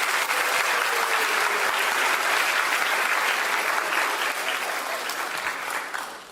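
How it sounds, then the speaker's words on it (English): A studio audience at a South Carolina weather broadcast gives a steady round of applause, a dense wash of clapping that holds for about six seconds before tapering off at the end. "let's just go on and give ourselves a round of applause."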